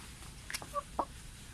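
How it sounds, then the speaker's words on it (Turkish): A few soft clucks from chickens at a hotel zoo, quiet and spaced out against a faint outdoor background. "Burada tavuklar var."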